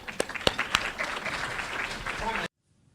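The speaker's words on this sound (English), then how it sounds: "let's give him a round of applause before he does that" Audience applause at a national tourism luncheon, a short burst of clapping from a room of people lasting a couple of seconds before cutting off sharply.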